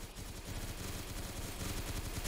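RPK machine gun firing in a zombie mode shooter game, a dense continuous stream of rapid automatic shots with no let-up, heard alone at steady loudness.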